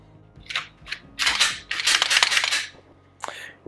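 Metallic clicks and snaps of a Glock 19 Gen 4 pistol being put back together after cleaning, a few sharp close clacks followed by a cluster of rattling slide and part movements, then a final click.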